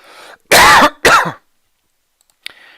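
Two sharp, loud coughs close to the microphone, a throat-clearing hack followed by a shorter one, then near silence, at a desk during an online poker session.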